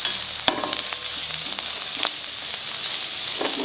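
Red masala and spices fry in a pan for a tomato chutney, a steady bright sizzle with a few soft scrapes and knocks as the mixture is stirred.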